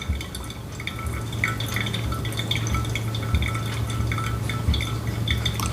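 Hot water poured from a kettle into a V60 dripper over Ethiopian coffee, a steady close trickle with small dripping splashes throughout and no talking.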